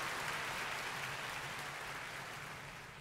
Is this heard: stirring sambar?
no